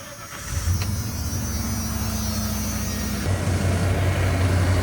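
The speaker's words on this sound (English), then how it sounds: "50 pounds on a cold start." A 1994 Ford F-150 pickup engine cold-starts with a short cranking catch, then settles into a steady, loud idle with a low droning hum and a slight shift in tone near the end, close by, no voices.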